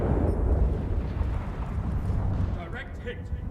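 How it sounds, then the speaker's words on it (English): Front turrets of a warship firing in a naval battle video game, a heavy rumbling boom that rolls on and fades over a few seconds, with a voice talking over it. "let's try the front turrets again"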